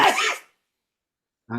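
A single short, sharp sneeze bursts out at the start, followed by silence and then a brief voice.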